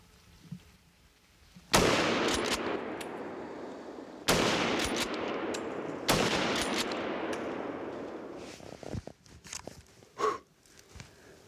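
Several loud, sharp gunshots ring out during a sunny wild boar hunt: three big blasts about two to three seconds apart, each trailing a long echoing decay, followed by fainter scattered rustles and clicks.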